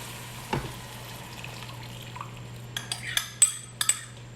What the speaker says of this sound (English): We're gonna stir in the flavoring.